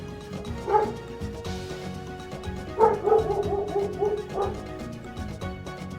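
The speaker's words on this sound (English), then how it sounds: "Dog went into the field and barked at Shadow." A dog barks and yips in short bursts, one brief yelp early on and then a quick cluster of excited barks, fairly close and clear over a quiet background.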